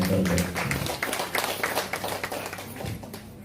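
A congregation at a watch night church service claps together loudly, a busy run of overlapping hand claps that trails off toward the end.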